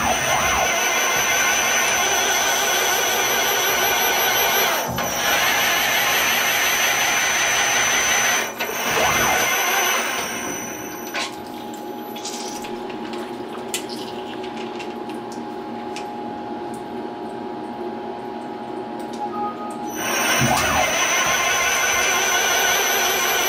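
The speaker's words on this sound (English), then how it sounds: "So I'm going to power up the mill. It's a little bit loud, but we'll tap a few of these holes" A milling machine running a compression tapping head as it taps holes, giving a loud, continuous mechanical whine with steady tonal hums and a few brief dips where the tool shifts, with no voices.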